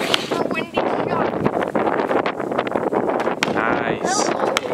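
Gusty wind buffets the microphone in heavy rumbling bursts during an outdoor basketball game while voices talk over it.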